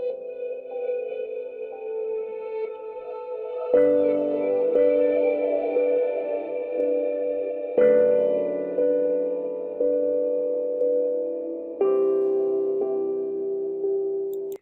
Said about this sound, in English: So it makes it sound like you're actually in the room with the piano.